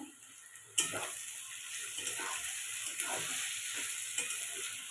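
Whole garam masala spices crackle and sizzle steadily in hot oil for fried rice, starting abruptly after a brief quiet moment, with close, continuous frying hiss and occasional sharper pops.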